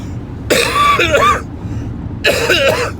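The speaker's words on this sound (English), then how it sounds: "I've been coughing a lot, you know. I'm still coughing" Two bursts of harsh, throaty coughing close to the microphone, separated by a brief pause, over a low background hum.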